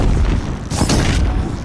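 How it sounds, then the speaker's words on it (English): Blaze canister exploding on a Sawtooth machine in Horizon Zero Dawn, a loud deep boom with a sharp burst midway over a dense, continuous rumbling game soundscape. "Three shots, there's an explosion"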